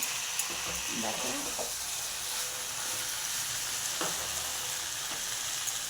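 Masala for kosha sizzles steadily in hot oil while being stirred, a continuous close frying hiss with occasional scraping strokes from the spoon.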